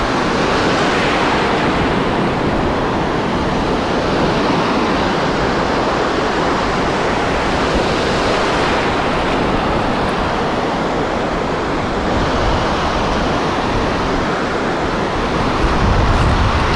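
Sea waves breaking on a summer beach at Houara, a loud, continuous roar of surf mixed with wind noise on the microphone, steady throughout with no speech.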